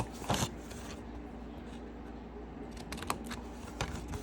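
Scissors snipping paper while cutting out a handmade envelope: a few quick, soft cuts at the start and a short cluster near the end, faint against a quiet indoor hiss with no talking.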